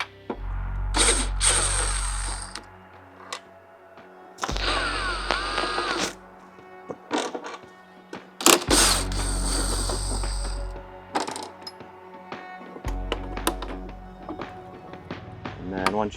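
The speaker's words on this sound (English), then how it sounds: "There's going to be 4 screws here, 2 on the top, 2 on the bottom. Be a 3/16 Allen to pull these out." Headlight screws backed out of a Harley Road Glide headlight mount with a 3/16 Allen key, heard as bursts of close metallic ratcheting and clicking separated by short pauses, with occasional taps and handling noise.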